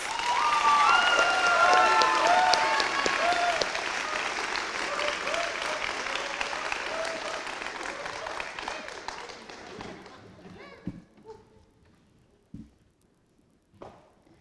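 Audience applause for award recipients at a Catholic college Year 12 awards ceremony, a full hall clapping with some excited voices, gradually thinning to a few isolated claps at the end.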